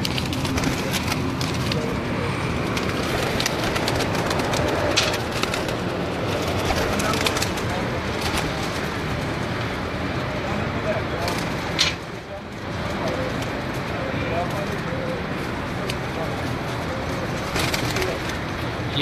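Flock of pigeons at a rooftop loft cooing and fluttering amid dense outdoor ambience with distant traffic, a continuous busy wash of sound.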